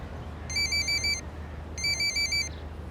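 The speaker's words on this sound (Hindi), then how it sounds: "अच्छा तुम फोन सुनो," An electronic telephone rings in two trilling bursts separated by a short pause, close and clear over a quiet room hum in a domestic drama scene.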